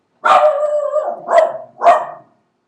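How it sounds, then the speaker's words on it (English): A dog barks three times, close and loud, one long drawn-out bark followed by two shorter ones, with no talking. "Princess, stop barking."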